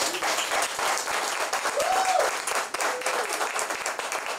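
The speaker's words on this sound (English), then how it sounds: "So I think we need another round of applause for our panelists." Loud, sustained applause from a crowd, a dense even wash of clapping that continues throughout.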